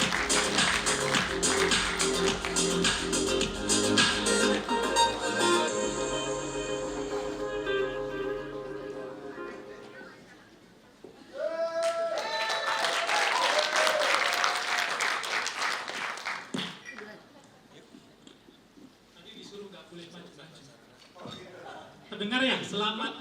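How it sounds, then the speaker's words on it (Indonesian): Audience applause welcomes a speaker on stage at an anniversary public-speaking event. Clapping is loud at first and fades, then a second burst swells and dies away, with scattered voices and chuckles. "Tepuk tangan yang paling meriah."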